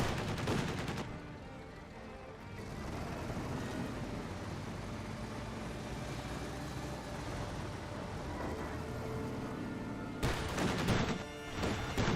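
An M15 anti-aircraft halftrack fires in the strategy game Company of Heroes 2, with rapid bursts of automatic fire, a sustained rattle of shots in the middle and heavier blasts at the start and end.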